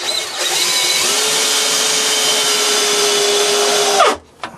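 A power drill drives drywall screws into pallet wood in one long, loud, steady whir lasting about four seconds, then stops abruptly with a brief clatter after.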